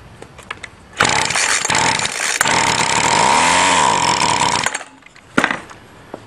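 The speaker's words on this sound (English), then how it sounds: "Now a tiny shot of gas, and pull it and see if it starts and dies to see if the motor's good" A two-stroke string trimmer engine is pull-started, with a few short cord-pull rasps, then a loud close buzzing run of several seconds with a revving swell before it cuts out, followed by more pull sounds.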